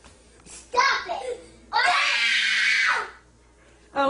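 A child screams in two loud, shrill bursts, the second one long and sustained, with brief bits of child vocalizing around them.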